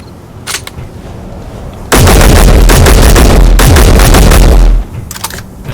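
Rifle fire in the video game Space Engineers: a few sharp shots, then a loud, sustained rapid burst lasting about three seconds, followed by scattered fainter shots.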